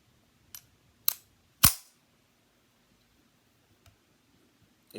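A Ruger Mark II pistol magazine is handled, giving three sharp metallic clicks in the first two seconds, the last the loudest, then a faint tick and a final click in near silence.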